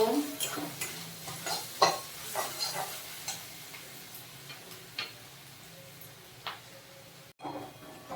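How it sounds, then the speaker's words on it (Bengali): Grated garlic fries in a pan after onions have been browned: a soft, steady sizzle under repeated spatula stirs and light scraping clicks, close but fairly quiet. "রসুনটা একটু ভেজে নেব"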